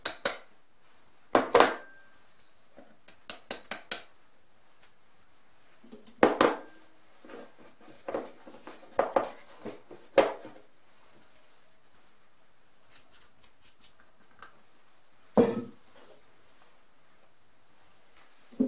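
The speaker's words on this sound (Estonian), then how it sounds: "Kõigepealt ma segan need kuivained siia." Dry ingredients, cocoa and flour, are stirred together in a bowl, giving intermittent bursts of a utensil scraping and clinking against the bowl, separated by quiet pauses.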